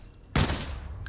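A single sharp gunshot blast in The Walking Dead video game, loud and close, cutting in abruptly and trailing off into a ringing rumble.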